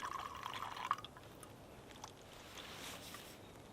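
Liquid fuel pouring from a Trangia liquid fuel bottle through its push-button nozzle, a faint, thin trickle over the first second before fading into quiet room ambience.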